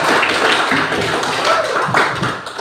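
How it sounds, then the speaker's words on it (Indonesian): A classroom gives group 2 a short burst of applause, a dense patter of many hands clapping together for under three seconds. "mari kita berikan aplaus kepada kelompok 2"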